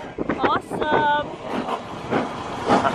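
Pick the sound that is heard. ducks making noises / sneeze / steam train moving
steam train moving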